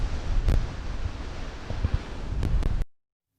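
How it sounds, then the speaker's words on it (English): Wind gusts buffet a Boya BY-MM1 microphone fitted with a furry dead cat outdoors, giving a low, continuous rumbling roar with a few sharp thumps, close and alone before cutting off. "there is still quite a bit of wind gusts."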